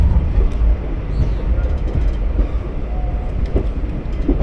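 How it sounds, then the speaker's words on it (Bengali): The Haldibari Express pulls out of a junction station with a loud, continuous rumble of rolling rail cars, faint rhythmic clatter and a brief squeal over the steady roar. "আমাদের ট্রেন এখন বর্তমান ছেড়ে বেরোচ্ছে"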